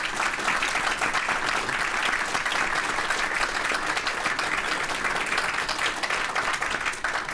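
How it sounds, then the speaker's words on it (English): A forum audience gives the mayoral candidates sustained, even applause, dense clapping from a crowd lasting the whole stretch without talk. "I think we should give them a round of applause."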